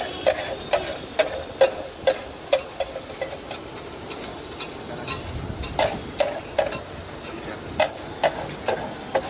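Vegetables and cumin fry for sabji bhaji. A gentle sizzle runs steadily beneath regular, close spatula taps and scrapes against the pan, sounding at a loose, even rhythm.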